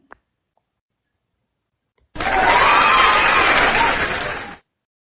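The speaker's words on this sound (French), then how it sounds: "Vraiment, on va applaudir." After a couple of seconds of silence, a loud burst of crowd applause and cheering breaks in suddenly, holds for about two and a half seconds, and then cuts off abruptly.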